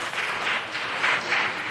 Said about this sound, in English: Please, a round of applause for our reaffirmed commissioner.